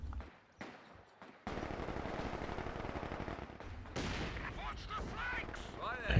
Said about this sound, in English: Mortar team going to work now